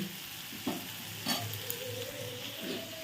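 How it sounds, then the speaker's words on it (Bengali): Egg curry frying in mustard oil, a steady sizzle with a few scraping stirs of a spoon in the pan, fairly quiet and close, with no talking. "ডিমের তরকারি রান্নাটা কিন্তু আমি সর্ষের তেলের ওপরেই করছি"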